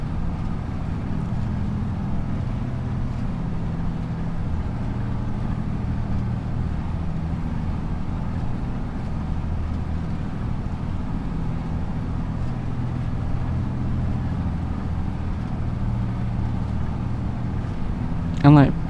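A tractor engine in Farming Simulator 25 drones at a steady low idle throughout, a constant rumbling hum with little change, ending in a brief louder burst.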